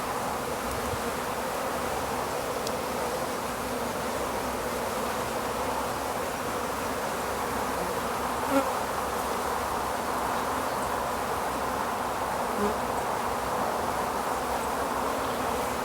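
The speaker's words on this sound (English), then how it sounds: "The bees are fairly calm" A dense, continuous hum of many honeybees buzzing close by at an open hive, steady throughout with no talking.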